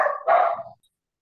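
A dog barks during an online grant training session, a short burst of two quick, mid-loud yips or barks that cut off abruptly and leave silence.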